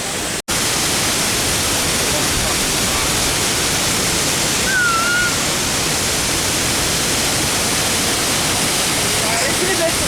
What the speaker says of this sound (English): Oh, what a beautiful waterfall.